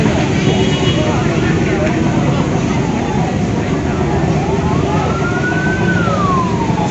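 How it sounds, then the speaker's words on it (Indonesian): Fire engine sirens wail continuously and loudly at a building fire at a government office in Palembang, a rising and falling tone over steady heavy engine and crowd rumble. "Bantuan mobil pemadam kebakaran juga terus berdatangan."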